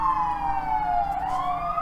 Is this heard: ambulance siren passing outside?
yes